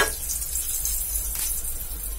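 Fenugreek seeds fry in hot oil for a tempering, giving a steady, close hiss of sizzling that continues evenly with no voices.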